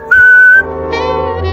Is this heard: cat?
no